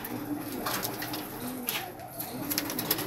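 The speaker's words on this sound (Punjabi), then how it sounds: "ਨੰਬਰਦਾਰ ਸਾਹਿਬ ਦੇ ਕਬੂਤਰ" Pigeons belonging to a village headman (numberdar), kept for pigeon-flying, coo in low steady murmurs alongside scattered higher chirps and rustling, close by and continuous with no talking.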